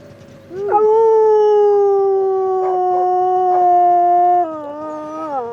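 Sled dogs on a mountain trail howl for a meal in the morning: one loud, close, sustained howl holding a steady pitch, then dropping lower near the end, with faint yips from other dogs behind.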